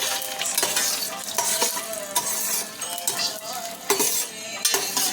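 Mint and coriander chutney ingredients sautéing in olive oil in a pan, a spoon stirring and scraping with clinks against the pan under a steady sizzle, close and loud.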